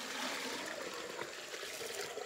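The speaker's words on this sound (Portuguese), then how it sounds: "Esse aqui é Chico Calendário, puxando água de cacimbão." Water being drawn up from a large, deep well by hand, heard as a faint continuous splashing and trickling wash with no talk.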